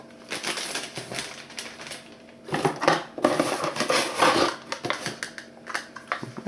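Ceramic plates clink and scrape against each other in irregular bursts of clattering, close by, with no talking.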